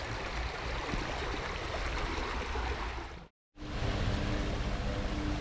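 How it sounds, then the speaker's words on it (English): A small babbling brook with a little waterfall on a countryside walk gives a faint, steady rushing and trickling wash of water, broken briefly by a short dropout before continuing. "So, a babbling brook, I believe you'd call it."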